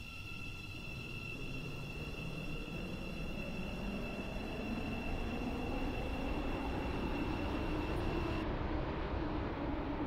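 A train in the Roblox game Stepford County Railway runs steadily with a continuous low rumble and a sustained high electric whine that cuts out near the end, no voices present.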